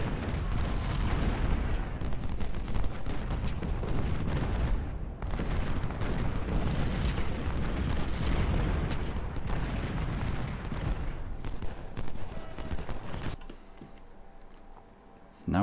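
Artillery fire in the Ultimate General: Civil War video game, a dense continuous barrage of overlapping booms and cannon blasts with battle din that thins out near the end.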